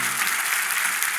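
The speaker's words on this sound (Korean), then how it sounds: "하나님께 영광의 박수" Worshippers at a joint Sunday service in Gwanghwamun break into applause in praise of God, producing a thick, continuous wash of clapping that holds steady throughout.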